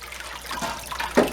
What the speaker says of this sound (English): See how just the water is just shooting out?